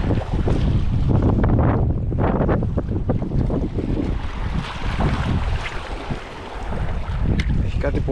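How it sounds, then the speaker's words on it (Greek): A sudden gust of wind buffets a small fishing boat off Patmos, loud rushing microphone roar with splashing water and hull knocks throughout, a brief voice in the mix. "Δες αέρας ξαφνικά."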